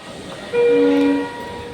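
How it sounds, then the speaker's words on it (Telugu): A train passes nearby, its loud two-tone horn sounding for about a second over a steady rumble of rolling wagons. "ట్రైన్లను చూసినట్టు ఉంటుంది"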